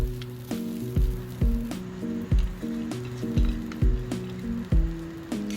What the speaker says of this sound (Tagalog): maglagay tayo ng mantika at mag-isa ng bawang. Hanggang sa ito ay bumango at mag-golden brown